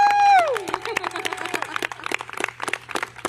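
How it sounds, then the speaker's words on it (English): A round of applause for parks workers at Dry Harbor Playground rises right after a speaker's voice trails off, scattered claps building into a brisk, uneven patter from a small outdoor gathering. "can we have a round of applause for the incredible parks workers that we have joining us here today?"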